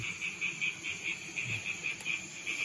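Frogs call by a forest stream at night, a steady pulsing chorus of repeated croaks with a continuous insect-like buzz, moderately close and alone without talk.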